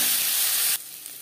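Chopped onions dropped into hot oil already frying with cumin seeds, bay leaf and chili give a loud, close, steady sizzle that cuts off abruptly partway through, leaving a faint hiss.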